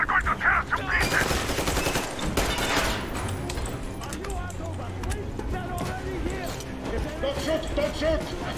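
Bursts of gunfire from the Metro Exodus video game, a fusillade of rapid shots that runs under loud shouting voices for the whole stretch.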